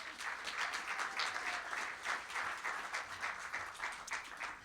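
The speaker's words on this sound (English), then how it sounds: "Let's give a warm round of applause for Holler North." An audience at a winter artist showcase applauds with dense, continuous clapping, distant and fairly faint, without talk.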